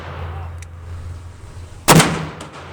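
A single loud Smith & Wesson 500 Magnum revolver shot cracks out at close range after a low rumbling background, its boom decaying over about half a second.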